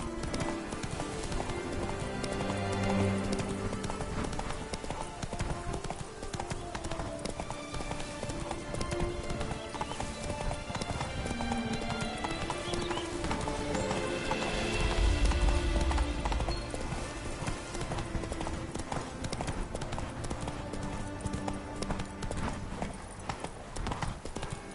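Roach, Geralt's horse in The Witcher 3: Wild Hunt, trotting with steady, rhythmic hoof clip-clops over a continuous bed of game music and ambience, with a snort or whinny partway through.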